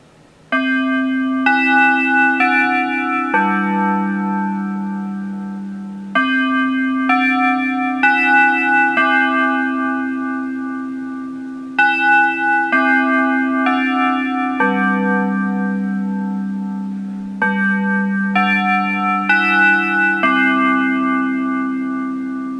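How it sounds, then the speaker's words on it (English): Electronic chime tones ring out in repeated melodic phrases with an extra glitchy bell note, loud and clear, each sequence sustaining and decaying before the next begins, from a faulty device connected to a broken solar panel setup. "It's not supposed to have that extra chime glitch at the end, or whatever that is, that extra bell."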